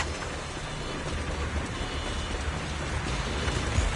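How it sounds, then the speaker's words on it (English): Steady rain hisses and patters without a break, with a low rumble of wind underneath, in the video game Zenless Zone Zero. "The wind and rain are picking up."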